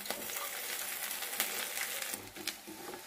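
Garden curry leaves sizzling and spitting in hot oil while a bean and tomato curry is cooked, a steady close crackle with occasional stirring clinks and no talking.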